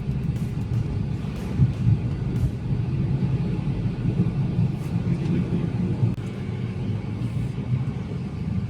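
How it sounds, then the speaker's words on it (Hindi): An army convoy rolls past on the Jammu–Srinagar highway near the Qazigund tunnel: a low, continuous rumble of heavy vehicle engines and tires, fairly close and steady, with faint higher knocks over the drone. "तो अभी आर्मी का कॉन्वॉय निकला है"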